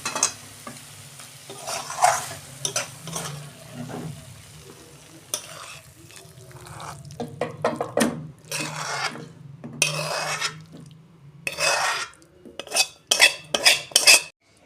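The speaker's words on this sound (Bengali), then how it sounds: "আমার মোচার তরকারি হয়ে গেছে, আমি ঢেলে ফেলছি" Banana flower and prawn curry being scraped and poured out of a cooking pan, with loud irregular bursts of metal spoon scraping and clatter against the pan over a low sizzling hiss.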